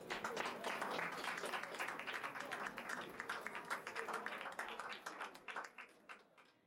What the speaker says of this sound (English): Je vous demande d'applaudir Lady Di Messina.